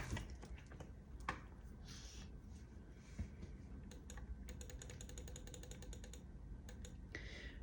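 Rapid keyboard typing with clustered keystroke clicks, strongest in bursts near the end, over a steady low background hum; no voices.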